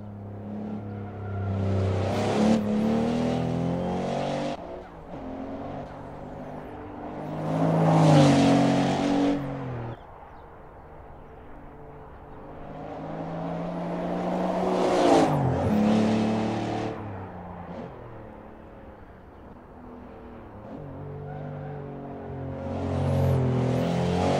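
A Porsche 964 Turbo S Leichtbau, a lightweight 378-horsepower turbo with larger injectors, aggressive camshafts and higher boost, roars through repeated loud revving surges and gear changes in an Assetto Corsa racing game, engine pitch climbing and dropping.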